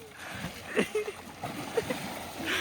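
Water splashing in an outdoor village pool, several irregular splashes and sloshes at close range amid voices shouting and talking over them.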